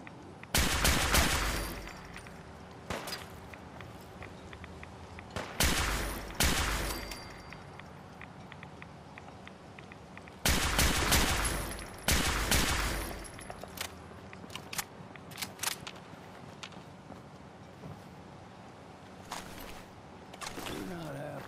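Gunfire in the Fallout video game, loud clustered bursts of rapid shots and fusillades separated by quieter gaps, with occasional single shots scattered through.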